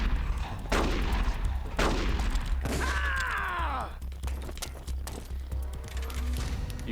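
Gunfire during a boss fight in the video game Metal Gear Solid: The Twin Snakes: several loud, sharp shots spaced a second or so apart, with a ringing metallic ricochet-like sweep in the middle over low game rumble.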